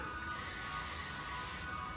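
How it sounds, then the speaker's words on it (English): Hair product sprayed from a spray bottle during a hair-straightening routine: one steady, close hiss of about 1.4 seconds that starts and stops abruptly, with no talking. "Sometimes I'll spray at the bottom."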